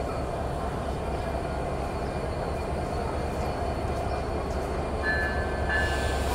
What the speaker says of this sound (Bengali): ঢ্যাং ঢ্যাং আওয়াজ কিন্তু শোনা যাচ্ছে